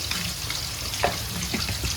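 Pork frying in a pan with ginger and garlic gives a steady, close sizzle, broken by a few brief stirring scrapes, with no talking.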